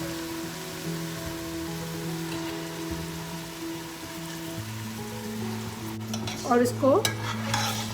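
Chicken pieces going into a pan of sautéing garlic and ginger, with a soft steady sizzle under a low hum, then a burst of stirring near the end while someone speaks briefly.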